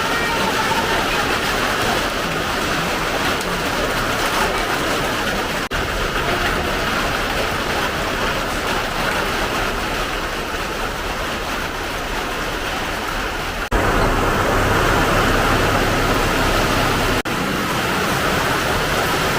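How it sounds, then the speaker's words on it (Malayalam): Sudden heavy rain pours down as a loud, constant roar of dense broadband noise that holds steady throughout, briefly swelling stronger toward the end. "മഴ മഴ പെട്ടെന്ന് മഴ."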